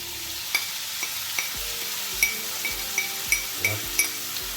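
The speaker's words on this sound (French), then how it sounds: "dans la poêle chaude, je vais pouvoir mettre un peu d'huile d'olive. Et je vais y mettre mes petits lardons" Bacon lardons sizzle steadily in olive oil in a hot pan, a constant frying hiss punctuated by regular clinks of a utensil against the pan, with no talk.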